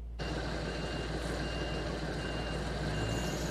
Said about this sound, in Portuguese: agora o guincho realiza a remoção dos veículos envolvidos neste acidente